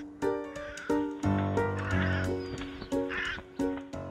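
Several crows caw loudly and close by in a rhythmic series of harsh, nasal calls, roughly one every half second, with no talking.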